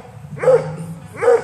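Coonhound barking at a rabbit, two loud, close barks about a second apart, alone.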